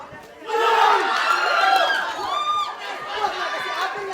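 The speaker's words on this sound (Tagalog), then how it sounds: "This crowd is enjoying this, Carlo, huh?" Crowd cheering and shouting at a live boxing match, a loud swelling roar of many voices that eases slightly, with a commentator talking over it.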